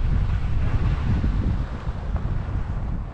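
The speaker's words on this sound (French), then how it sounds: "Il y a un bon petit vent, 15 nœuds à peu près." Steady wind of about 15 knots buffeting the microphone at Ascou-Pailhères, a constant low rumbling roar with no voices.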